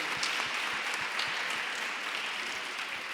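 Steady audience applause at a queer literature gathering, a dense, even wash of many hands clapping from a crowd, with no talk over it.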